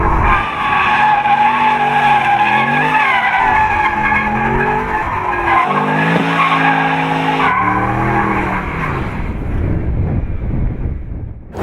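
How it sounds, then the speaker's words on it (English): A Mercedes-Benz SLS AMG spins donuts, its tires squealing and skidding loudly and continuously with the engine droning beneath, the screech wavering in pitch before fading near the end. "what would be cooler than having both doors up and just doing like victory donuts?"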